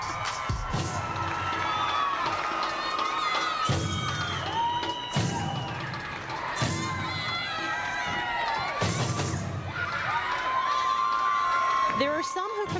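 A large arena crowd at the 2005 NCAA women's gymnastics championships cheers and shouts during a floor routine, with swells of noise, sharp thuds of landings and tumbling, and music and a commentator's voice running over it.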